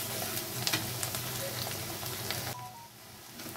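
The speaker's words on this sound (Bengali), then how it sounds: "পেঁয়াজটা হালকা নরম হয়ে আসা পর্যন্ত আমি ভাজবো।" Onions fry in a pan over a steady close sizzle, with light stirring clicks, until they turn soft. The sizzle fades abruptly near the end.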